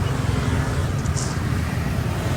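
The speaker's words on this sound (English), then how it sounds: "there's more traffic here now than where we were before" Steady traffic on a small, busy street in Kuta, Bali, a continuous low rumble of nearby vehicles with a brief higher hiss partway through.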